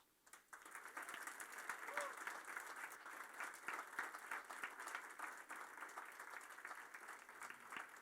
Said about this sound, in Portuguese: E eu queria que a igreja saudasse eles com palmas